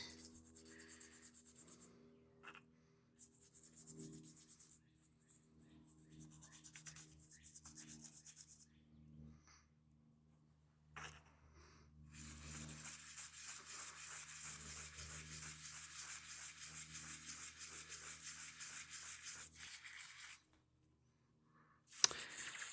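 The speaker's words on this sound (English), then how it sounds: "let's give it a good scrubbing" A Jobey Shellmoor tobacco pipe being scrubbed during restoration, giving a steady rubbing, brushing sound in long continuous passes, close and moderately loud, with short pauses between bursts and a sharp knock near the end.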